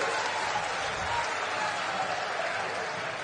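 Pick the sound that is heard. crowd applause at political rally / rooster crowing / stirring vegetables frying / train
crowd applause at political rally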